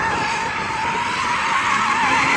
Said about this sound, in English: See if you can drift that, because that's 4-wheel drive